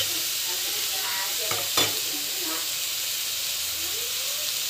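Ginger garlic paste sautés in a pan for a village-style dry fish curry, giving a steady hissing sizzle with one or two short stirring clanks in the middle.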